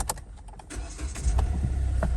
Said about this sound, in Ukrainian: Ще раз заглушу заведу